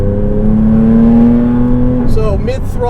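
A turbocharged 2007 Porsche Cayman S runs at mid-throttle on a track, its engine holding a steady, rising drone up close before easing off, with a short burst of voice near the end.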